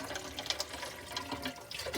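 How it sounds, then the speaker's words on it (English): Cold tap water runs over cooked pasta noodles for a pasta salad, a soft, steady splashing stream with small irregular spatters, fairly quiet and close, with no talking. "We're going to ice up those noodles in cold water."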